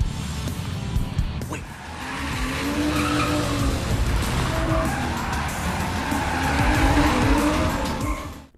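A race car drifts with tires skidding and squealing continuously, engine loud and close throughout, with wavering screech tones rising and falling over a steady roar.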